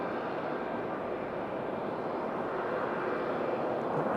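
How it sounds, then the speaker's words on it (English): A JetBlue airliner pushes back at Raleigh-Durham airport, its auxiliary power unit giving a steady, moderately loud whine and rumble that holds unchanged across the few seconds with no talk. "JetBlue pushing back just below us."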